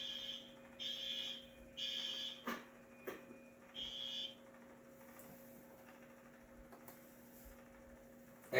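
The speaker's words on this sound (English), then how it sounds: "people pulling down the fire alarm at school as a prank" A school fire alarm rings after being pulled as a prank, sounding as a series of shrill electronic bursts with short gaps over a steady mains hum, then dropping away to a quieter humming background.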